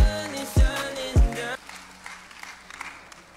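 Several sharp hand claps ring out from a church congregation in praise, three loud claps in quick rhythm followed by quieter room noise and faint murmurs.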